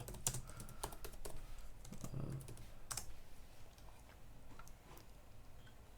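Typing on a computer keyboard: a quiet, steady run of soft key clicks with a few sharper taps, with no talking.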